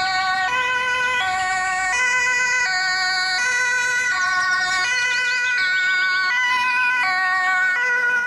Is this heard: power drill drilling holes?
no